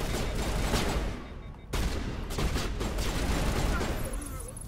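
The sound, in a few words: gunfire from a video game, Mass Effect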